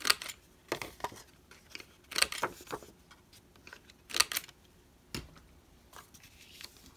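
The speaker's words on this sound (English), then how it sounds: "take our corner chomper and round all of our corners" A corner chomper punch rounding the corners of 6 by 3.5 cardstock, giving sharp crisp clicks and snips, about eight separate punches spread irregularly, close and fairly quiet.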